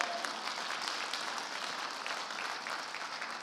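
Church congregation applauding during a sermon, a soft, continuous patter of many hands clapping, somewhat distant and fading slightly toward the end.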